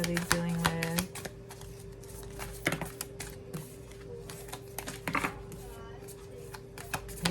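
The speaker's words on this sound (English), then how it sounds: "Yeah, these cards are super stuck together. Let me try again. Shuffle." A brand-new, stuck-together deck of cards being shuffled, giving brisk clustered riffling clicks in short bursts separated by pauses, close and fairly quiet over a faint steady hum.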